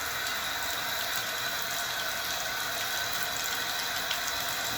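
Water draining steadily down a freshly cleared bathtub drain, a constant broadband rush that stays even and close for the whole stretch with no talking over it.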